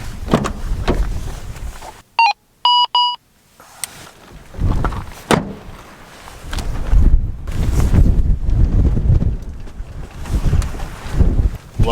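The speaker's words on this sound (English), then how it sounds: "Loving this wind. This is great." Gusty outdoor wind buffeting the microphone in rough bursts and swells, broken by a brief electronic beeping tone, with no talking.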